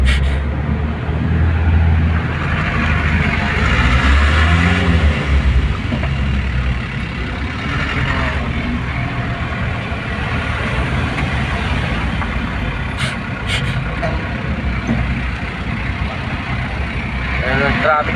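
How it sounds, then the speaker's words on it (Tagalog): Road traffic with cars and trucks, including a stalled vehicle giving off smoke at a jammed intersection, a steady low engine rumble and idling throughout, with someone talking over it. "Ayan ang traffic dito ah."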